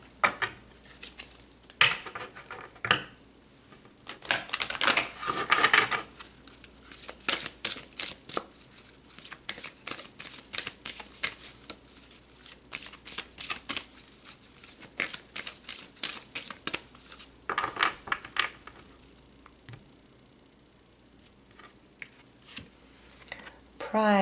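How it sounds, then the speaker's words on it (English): Tarot cards shuffled and pulled from a deck, close papery riffles and slapping card snaps in repeated bursts, with quieter pauses between handling. "let's pull another card"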